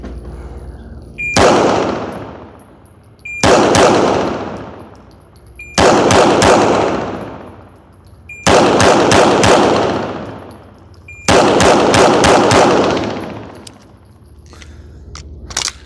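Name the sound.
gunfire during an aggressive shooting drill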